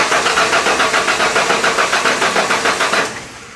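A 1996 Ford F-150 engine cranks without starting: a loud, rhythmic starter churn pulses steadily for about three seconds, then stops abruptly.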